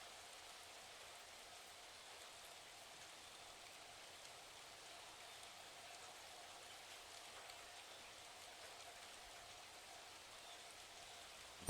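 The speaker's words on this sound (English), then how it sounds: "Listen to the sounds of the rain." Steady rain falls evenly and softly, a faint continuous patter with no voices or other sounds.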